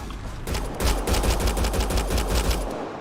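Rapid automatic gunfire in Mass Effect Andromeda, a loud, dense rattle of repeated shots continuing throughout with booming low-end impacts.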